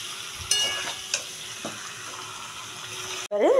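Chicken with garlic stir-fried in a pan sizzles steadily, broken by a few sharp clinks of a utensil early on, before a voice starts speaking at the very end.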